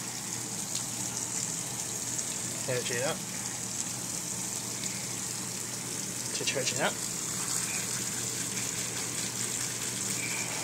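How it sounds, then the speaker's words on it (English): Water running into a washing machine set to warm/cold during a home laundry load, a steady rushing gush throughout, with a person talking briefly over it. "And turn on the water."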